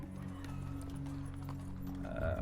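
Horse hooves clip-clop steadily from a mounted unit in Total War: Rome Remastered, a strategy video game, running continuously beneath a sustained tonal drone.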